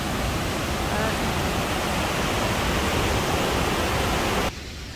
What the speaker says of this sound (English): it's made the waterfall go crazy